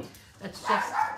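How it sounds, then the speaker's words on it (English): Dogs bark somewhere in the background at moderate level, mixed in with someone talking during a relaxed watercolor painting session. "I apologize for the dogs in the background."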